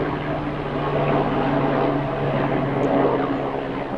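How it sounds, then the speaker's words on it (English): Steady drone of an aircraft passing overhead above a garden, a continuous, fairly loud engine hum that holds level throughout with no voices. "Got a helicopter deciding to"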